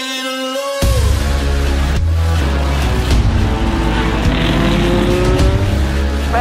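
Race cars roar past at the 2024 Rolex 24 at Daytona as the green flag drops, a loud, dense wall of engine noise with rising and falling revs, close by and continuous.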